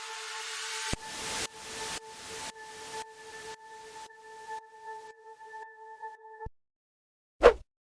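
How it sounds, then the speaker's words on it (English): A white noise effect and uplifter in a tropical house track: rhythmic pulses of hiss under sustained synth tones, growing fainter with each beat until they fade out, then one sharp burst of noise just before the end. "Uplifter and white noise."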